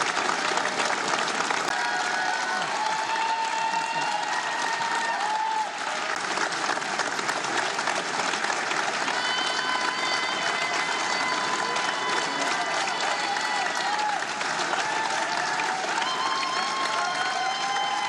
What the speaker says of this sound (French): Ici, il applaudit parce que le public applaudit.